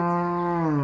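A single long, loud cow moo, steady and close, slowly dropping in pitch toward the end.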